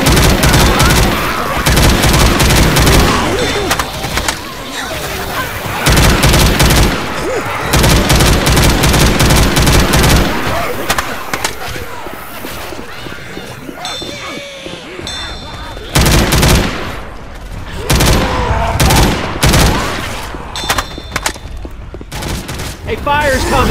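Dense, loud gunfire from the Left 4 Dead 2 zombie shooter rattles almost without pause, with rapid automatic bursts, booming shots and a few brief lulls. Voices call out between the volleys.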